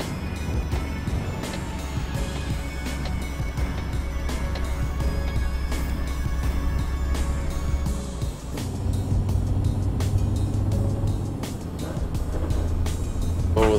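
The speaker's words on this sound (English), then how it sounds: "Those grinding gears" Truck engine drones steadily in a truck driving video game set on Scandinavian routes, with a loud continuous hum that briefly drops and shifts pitch midway, then rough grinding as gears are forced before the engine resumes.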